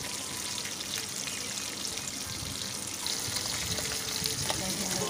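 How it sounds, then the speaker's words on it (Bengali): Shol fish frying lightly in hot oil, a steady soft crackling sizzle that keeps up throughout at moderate level, with occasional clinks and stirring. "মাছগুলোকে কড়া করে ভাজবো না, হালকা করে ভেজে তুলে রাখবো।"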